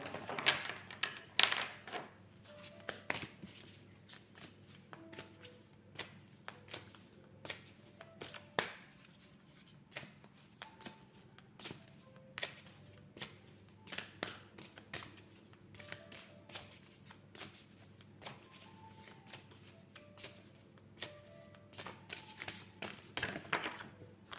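A deck of cards being shuffled and handled at close range, with repeated crisp riffles, snaps and taps scattered unevenly through a quiet room, with no speech.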